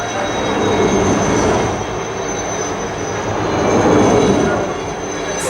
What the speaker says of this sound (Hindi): इस कॉम्बैट टीम का, इस आयुध दल का अभिन्न अंग हेलीकॉप्टर दस्ते 2 चीता और 3 चेतक